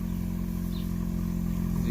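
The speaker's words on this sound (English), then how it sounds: "Alright, so here's the cold start" A 2020 Honda Civic Si on its factory exhaust idles right after a cold start, giving a steady, low, fairly quiet engine drone that holds even throughout with no revving.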